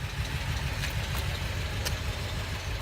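An Acura car engine with a misfire idles steadily at close range, a continuous low rumble with faint irregular knocking throughout and no talking.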